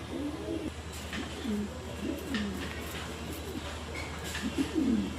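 Pigeons cooing inside a pigeon house in the morning, repeated soft throaty coos from several birds close by over a low background hum, with faint rustling.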